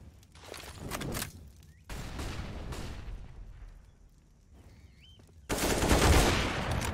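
A Counter-Strike-style esports match produces bursts of video game gunfire and footsteps in several distinct loud segments, ending in a dense, loud volley with no talk over it.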